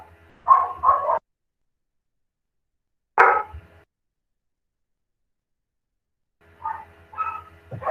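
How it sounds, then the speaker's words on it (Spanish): A female dog barks nearby in short bursts: a quick double bark, a single bark after a pause, then a few more barks after a longer silence. "Perdón que voy a callar la perra."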